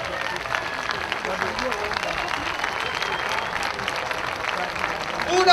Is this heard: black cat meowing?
no